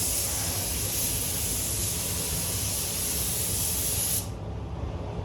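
Spray gun laying down the first paint coat on a Honda Integra DC5 during a full repaint, a loud, steady hiss held for about four seconds before cutting off, leaving a low background rumble.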